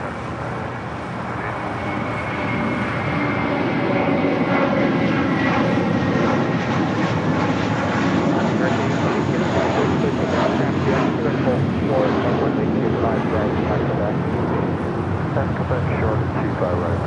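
A jet airliner roars on takeoff at LAX, a broad, loud engine rumble that swells and holds steady for most of the stretch. Faint radio chatter may sit beneath the noise.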